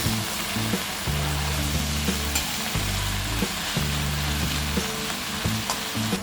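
Fenugreek leaves fry in a pan for methi tomato curry, a loud crackling sizzle under rhythmic scraping strokes of a spoon stirring, close and continuous.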